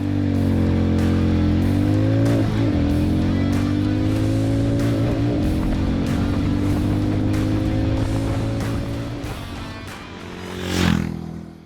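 Hero Mavrick 440 motorcycle accelerating hard from standstill to 100 km/h, the engine note rising through successive gears with brief dips at each shift, then easing off near the end.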